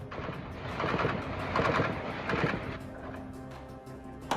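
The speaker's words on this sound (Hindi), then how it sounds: "गोलियों की तड़तड़ाहट से आसमान गूंज रहा है। लगातार हो रही फायरिंग दहशत पैदा करने वाली है।" Continuous gunfire in a shootout between police and criminals in Venezuela: dense, rumbling rapid shots and bangs blur together into a sustained, distant-sounding barrage.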